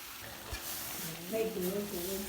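Large pieces sauté quietly in a pan for a Jaffna-style meat curry, giving a faint, even sizzle with occasional stirring. A voice rises briefly toward the end.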